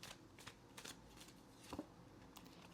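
Tarot cards shuffled and drawn from a deck, giving soft papery riffles and flicks in a few short bursts against a quiet room, with one firmer snap near the end.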